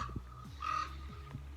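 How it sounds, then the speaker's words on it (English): A raven caws once, loud and harsh, in a natural outdoor setting, over a steady low hum of background noise. "I love these birds, all these ravens, squawking and cawing"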